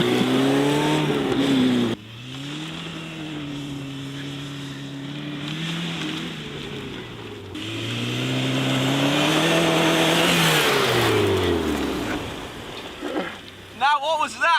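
A car laps a race track with a loud, close engine note that climbs and falls through gear changes and passes, while people talk over it and shout excitedly.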